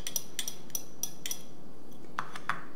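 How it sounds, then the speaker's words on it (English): Avocado and freshly chopped garlic being mashed with a utensil, a series of sharp clinks and scrapes against a bowl, about eight taps spaced irregularly, close and fairly quiet, with no talking. "we're going to just mash our ingredients"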